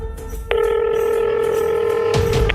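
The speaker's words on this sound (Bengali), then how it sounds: "দেখি একবার স্কুলে ফোন করি" A phone call placed to a school: a steady telephone tone rings out clearly for about two seconds after a short quiet start, then cuts off with a brief click near the end.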